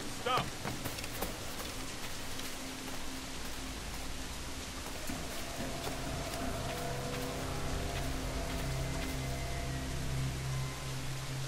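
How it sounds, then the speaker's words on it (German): Steady rain hisses continuously in Assassin's Creed Black Flag, with faint sustained game tones rising in the background and a voice speaking over it. "Also jetzt sieht dieser Regen neben dem Baum richtig toll aus."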